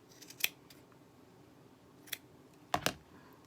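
Scissors trim a yarn tassel on a mini stocking hat: a few sharp, close snips, one on its own and then a quick pair, with quiet pauses between them.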